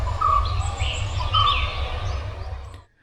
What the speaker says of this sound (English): you will hear sound of so many insects and chirping of birds